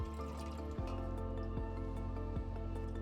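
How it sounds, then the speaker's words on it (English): Distilled water washings from a beaker pour into a 2-litre graduated cylinder in a lab, a continuous close liquid fill with a rising tone and small gurgling dips, steady and unbroken. "Wash out the beaker with distilled water and also add the washings to the graduated cylinder."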